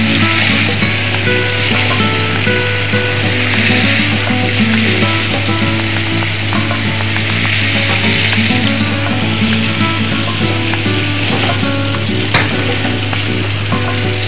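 Hilsa fish pieces frying in a cooked-down spice paste for ilish pulao, a loud, steady sizzle with stirring scrapes running the whole time, close and unbroken, no voices.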